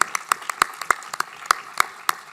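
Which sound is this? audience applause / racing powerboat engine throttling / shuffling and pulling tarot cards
audience applause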